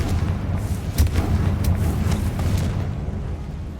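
Spell explosion from the Confringo curse in the Hogwarts Legacy video game, a dull booming blast followed by rumbling crackle and low debris noise that fades over a few seconds.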